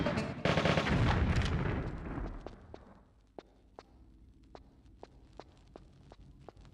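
Flash ammo fired in Tomb Raider: The Last Revelation during a no-kills run in the Citadel, a loud blast burst in the first two seconds that fades into a steady series of sharp ticks, like footsteps or clicks.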